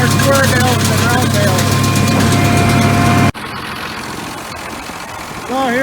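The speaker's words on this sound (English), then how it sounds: "So here we go, 8600's holding up pretty good. The old 570s hanging in there." A Ford 8600 tractor pulls a New Holland 570 square baler through first-crop hay, its engine droning steadily up close before the sound drops abruptly to a quieter, rougher rumble.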